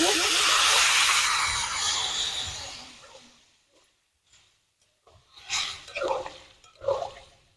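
Warm water is poured into a pot of duck curry, giving a loud hissing rush that fades after a few seconds, followed by a voice talking over quieter kitchen sounds.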